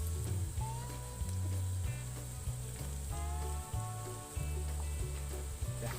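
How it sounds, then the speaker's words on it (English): Oil sizzles on high heat in a deep pan for frying buttermilk chicken, a steady crackling hiss under a prominent background music track, with no talking. "In a deep pan, on high heat, heat up enough oil for frying chicken."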